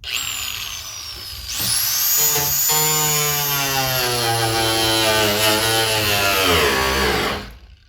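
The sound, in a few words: mini grinder running, not working right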